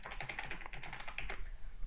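Typing on a computer keyboard while writing Java code, a quick steady run of close, crisp key clicks over faint background hiss, with no talking.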